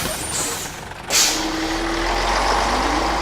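A bus with air brakes gives a sharp hiss burst, then an idling engine rumbles steadily beneath a low drone, fairly close and with no voices.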